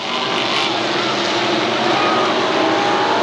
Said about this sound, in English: He has the car under power.